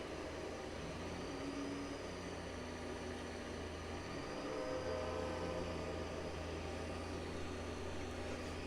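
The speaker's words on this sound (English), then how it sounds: "Nice train sounds in the background." A train rumbles past in Farming Simulator 25, a steady, close rolling drone of rail cars with faint higher tones, continuous and without talk over it.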